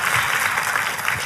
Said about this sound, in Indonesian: kalau mau tepuk tangannya yang paling meriah buat Yesus Tuhan kita